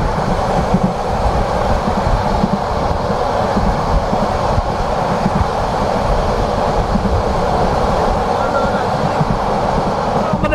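A continuous, loud rail rumble from aboard the Sonar Bangla Express on the Dhaka–Chittagong line, passing Shashidal station, with faint clatter throughout and a hint of voices beneath.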